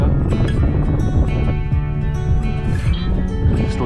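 Strong winter wind buffeting the microphone on the Mam Tor hilltop in the Peak District, a loud, continuous low roar with gusty swells throughout and no talking.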